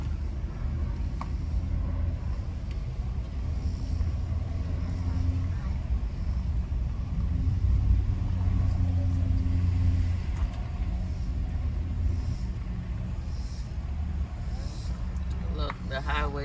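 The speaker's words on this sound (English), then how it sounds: "See cars going by." Steady highway traffic hums beside the Round Top Campground in Gettysburg, Pennsylvania, with a constant low rumble of cars going by at a distance while a person talks over it.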